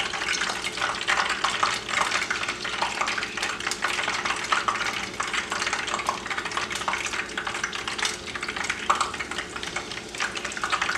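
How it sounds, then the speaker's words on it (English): Beer-battered trout and perch fillets sizzle in hot oil, a dense, steady crackle and spatter close by with bubbling pops throughout and no talking. "Let's get the remainder of this trout and perch cooked up here."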